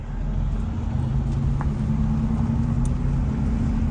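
A car drives along with a steady low engine rumble and road noise from inside the cabin, continuous and fairly loud, with no voices.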